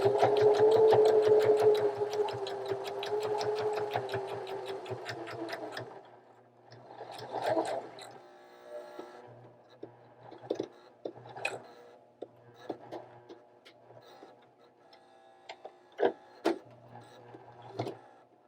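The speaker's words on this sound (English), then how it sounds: "I'm just going to sew all the way around. It does get a little bit thick when you get in these corners" Sewing machine stitching steadily around a fabric corner bookmark, close and clear, then slowing into short intermittent bursts with pauses and handling clicks as it works through the thick corners.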